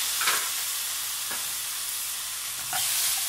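Chopped tomatoes are stirred into frying masala for a green moong dal curry. A continuous close sizzle is broken by three scraping stirs of the spoon in the pan.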